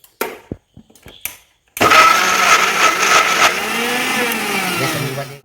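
A mixer blender whirs loud and close as it blends a KitKat milkshake, starting abruptly after a few light clicks and knocks, then running continuously with a slight wavering pitch.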